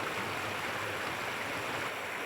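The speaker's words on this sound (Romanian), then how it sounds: "Un fir de apă, izvorât în munții Cindrelului, se preface într-un râu repede" A fast river fed by a spring in the Cindrel Mountains rushes toward the valley, making a steady, dense broadband wash that runs unbroken and fairly close, with no voices.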